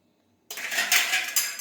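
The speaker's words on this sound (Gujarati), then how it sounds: "હવે આપણે બધો મસાલો છે તે આ રીતે આપણે મિક્સ કરી દઈશું" After half a second of silence, a metal spoon scrapes and clinks in a bowl as the spice filling for stuffed eggplant is mixed, with brief clattering and no talking.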